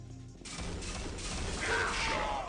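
Rapid gunfire and impacts in a Windows 98-era PC shooter running on a 3dfx Voodoo 2, a dense burst of crackling shots starting abruptly after a brief quieter moment and continuing loudly to the end.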